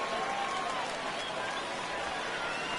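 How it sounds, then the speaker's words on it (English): Home crowd at a minor league baseball game cheering and applauding after a base hit with the bases loaded, a steady broad wash of crowd noise throughout. "So home crowd getting really excited here tonight."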